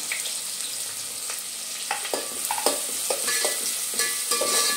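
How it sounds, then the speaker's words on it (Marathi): Finely chopped onions fry in about six spoons of oil, hissing steadily while a spoon scrapes and stirs them in a run of short clicks that picks up toward the end. "आता आपल्याला बारीक चिरून कांदा घालायचा आहे तेलामध्ये।"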